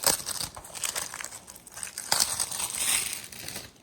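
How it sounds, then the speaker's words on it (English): A pack of hockey cards is torn open and handled at close range, giving a steady stream of loud crinkling and tearing foil with sharper rips around the middle and no talk. "First time in a long time I've opened up hockey cards."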